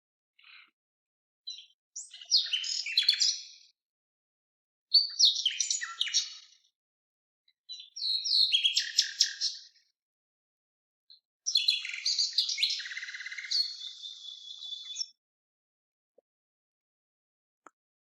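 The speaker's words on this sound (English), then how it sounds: "Imagine Keats sitting in a garden and listening to the song of a nightingale like this one." A nightingale sings in a garden, delivering four separate bursts of rich chirps, trills and whistled phrases, the last one longer and more sustained, with brief silences between them and no voices.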